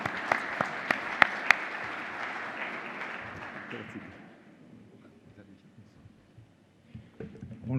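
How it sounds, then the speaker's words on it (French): Audience applause at the official opening of a world cities and ports conference as the mayor of Tangier is introduced: sustained clapping with a few sharp claps, fading out after about four seconds into quiet room noise. "sous vos applaudissements"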